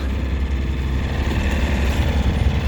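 Small sailboat, an Astus 22.1 trimaran, motoring under engine power on the Mediterranean with no wind, a steady low outboard-like drone with a constant close rumble and no talking.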